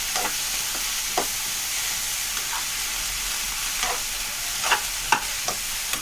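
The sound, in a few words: okra (vendakkai) frying in oil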